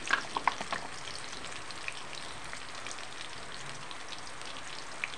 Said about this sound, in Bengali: একটু ভালোভাবে ভেজে নেব